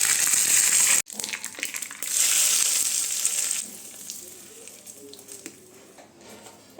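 White oil with dried chilli, mustard seeds and curry leaves sizzles hard in a pan, a loud hissing spatter that breaks off briefly, then rises again and slowly fades to a softer crackle.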